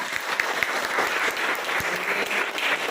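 Steady, dense applause from a class audience, many hands clapping together for the full stretch, fairly close and loud with no talking.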